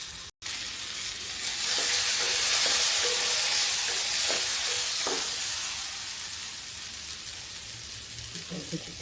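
Lightly boiled ridge gourd peel (chikla) frying in a pan, a continuous bright sizzle and hiss that swells after a brief cut, with scattered stirring clicks and a low background voice.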